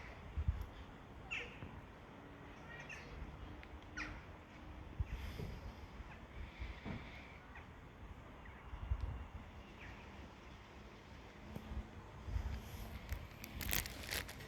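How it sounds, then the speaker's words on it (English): Crows flying about over Ashford, Kent, giving scattered caws near and far over quiet outdoor ambience, with a louder burst of calls near the end. "Really don't know why the birds are flying like this."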